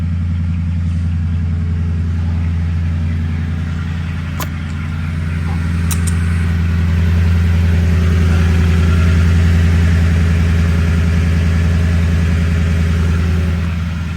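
A Toyota Sequoia fitted with a Magnaflow muffler exhaust idles close by with a deep, steady rumble, swelling slightly louder partway through as if lightly revved, with no talking.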